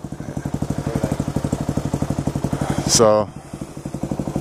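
A motorcycle with a draining, uncharged battery chugs at a rhythmic, close idle, its beat swelling briefly into a short surge before settling back, while a voice speaks over it.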